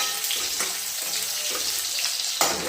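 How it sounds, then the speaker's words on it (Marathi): Vegetables fry lightly in a pan with a continuous close sizzle, broken by several soft scraping stirs at a steady, unhurried rhythm. "हे पण छान असं तळून घेणार आहे म्हणजे थोडीशी फ्राय करणार आहे"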